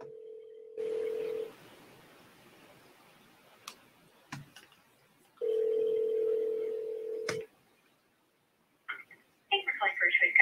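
A telephone being dialed for a cold call to a business: a steady dial tone, a few touch-tone beeps and clicks, then the outgoing ring tone pulsing at a moderate level, with a voice at the very end.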